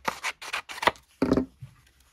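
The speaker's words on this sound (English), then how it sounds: "So I'm probably going to snip a bit off." Scissors snipping a printed paper label, four quick crisp cuts followed by a longer rasping slice, close and clear with no talking.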